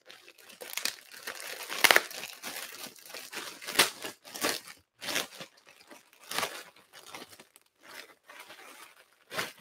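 Paper being torn and crinkled while opening a fancy little mail envelope, a run of sharp rustling rips and crunches spread across several seconds, close and fairly quiet, with no talk.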